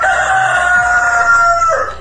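A rooster crows loudly and close by, one long drawn-out call holding steady for about two seconds before trailing off.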